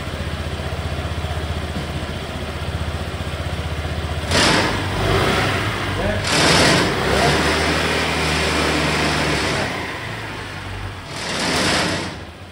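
A Honda PCX scooter engine, being worked on with its drive pulley modified, idles steadily and then gets revved in three distinct bursts, each rising and falling back to idle, heard up close.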